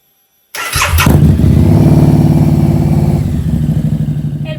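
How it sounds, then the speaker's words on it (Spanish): A Harley-Davidson V-Rod motorcycle engine starts abruptly after a brief silence, then settles into a loud, steady, rumbling idle nearby. "Vamos a arrancar la moto."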